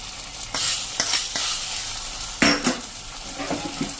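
Garlic chutney mixed in oil is stirred into a drumstick (moringa) curry gravy in a pan, with a steady sizzle under scraping spoon strokes and a few sharper clinks of utensil on metal, no voices.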